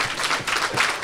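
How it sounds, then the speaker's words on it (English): Brief burst of scattered audience clapping at a robot combat competition, uneven and moderately loud, rising and falling over about a second with no speech. "Don't clap that."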